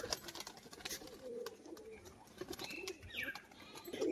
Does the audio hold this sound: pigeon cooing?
yes